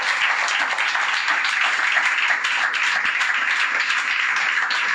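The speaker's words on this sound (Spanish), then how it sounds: "Vamos a darle un aplauso, pero grande," Sustained applause fills a church service, a dense steady wash of many hands clapping at an even level throughout with no pauses.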